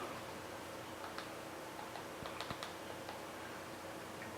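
Keys tapped on a computer keyboard while entering a reboot command to test an Android TV box's bootloader, heard as a few quiet, scattered clicks over a steady background hiss with no talking.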